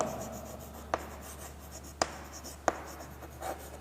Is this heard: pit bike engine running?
no